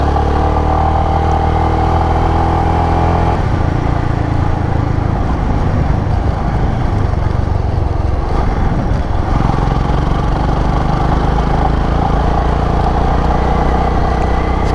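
A motorcycle rides across the open Mongolian steppe on tyres without knobby treads, its engine droning loud and close throughout with rattling clatter and shifting revs.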